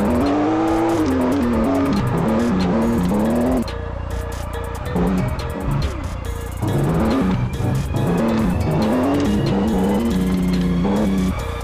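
Ford Mustang drifting in the video game Car Parking Multiplayer, with a loud revving engine that rises and falls repeatedly, mixed with tire squeal and skidding throughout.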